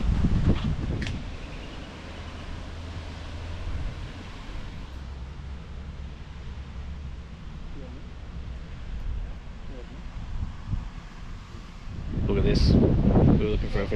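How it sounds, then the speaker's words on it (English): Steady outdoor wind rushing and buffeting the microphone, with gusts swelling louder near the start and the end. "It's nice, it's just a bit windy."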